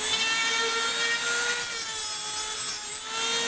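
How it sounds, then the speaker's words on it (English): Dremel rotary tool fitted with a cutting disc grinding down a corner on an Edge 540 model build, a steady high whine with constant abrasive rasp held close and alone throughout. "Take your Dremel with a disc and"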